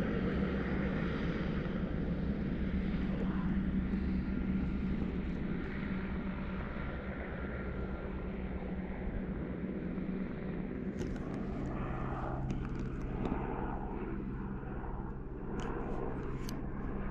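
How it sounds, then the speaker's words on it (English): A low, steady helicopter rotor-engine drone hangs overhead for the whole stretch, broad and rumbling, with faint higher clicks joining near the end, heard on Kesugi Ridge, Alaska. "Sounds like that helicopter's coming back."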